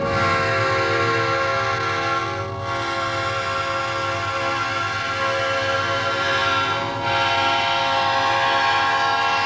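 A train in the United States rumbles past loudly and close, a dense continuous roar with sustained horn-like tones running through it.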